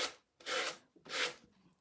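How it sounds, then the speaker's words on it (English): Two slow, close rasping strokes of a sanding block rubbing along a board edge at an angle to tear off overhanging napkin paper, each scrape swelling and fading with a short pause between. "with your sanding block, and it will tear the paper right off of there."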